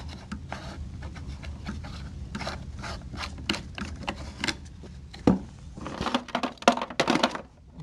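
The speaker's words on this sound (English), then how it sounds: "You screw in the lamp base." A lamp base is screwed into a socket in an electricity demonstration, producing a series of close scraping, rasping twists and clicks in uneven rhythm that grow busier toward the end, without speech.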